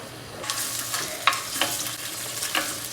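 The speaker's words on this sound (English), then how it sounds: "I've started to fry my pancetta" Pancetta frying in a pan for spaghetti carbonara, a close crackling sizzle with several sharp pops and spatters over about three seconds.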